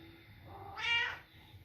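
A cat meows once, a clear, fairly close cry rising out of a quiet indoor room during a home yoga session.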